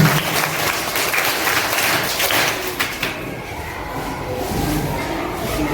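Dense applause from an audience at an evening gathering on 8 March 2024 at Complexe Hibiscus, loud and full for about three seconds, then thinning to lighter, scattered clapping.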